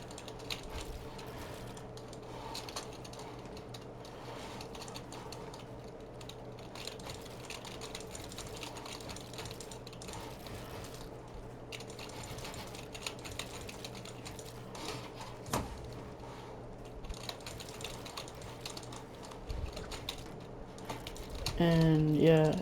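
Rapid, quiet computer keyboard tapping and mouse clicking during PC gaming, a continuous fast patter under faint game sound and low background hum.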